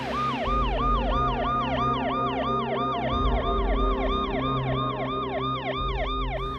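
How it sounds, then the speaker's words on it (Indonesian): A loud police siren wails in a rapid, repeating rising-and-falling cycle, steady and close, with a low vehicle engine rumble underneath. "Namun sirene polisi menggaung."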